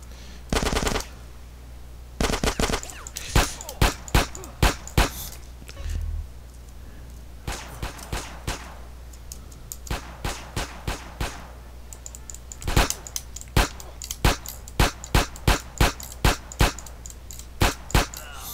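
Pistol gunfire in the video game GTA San Andreas rings out as sharp, loud shots, some in quick clusters and others spaced apart, over a low steady game hum.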